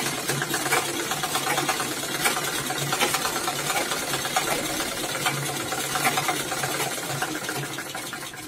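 A sewing machine runs without stopping as it stitches the side seam of a pair of gents' trousers. The whir is close, even and continuous, with no talk over it.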